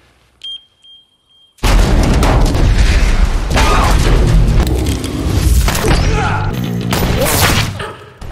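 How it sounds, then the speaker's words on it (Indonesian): Sustained, dense gunfire from a shootout scene in the 2013 action film 2 Guns bursts in after a few faint beeps, a loud continuous barrage of shots and crashes with a mixed-in score lasting several seconds. "baku tembak hebat terjadi antara kelompok Earl, Papi Greco, dan Quinn"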